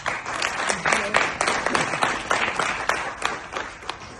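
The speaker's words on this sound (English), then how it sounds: "And thanks to the CEO, Mr. Osendero, can you give them a round of applause?" A round of applause from an audience, brisk clapping with distinct sharp claps standing out, steady throughout.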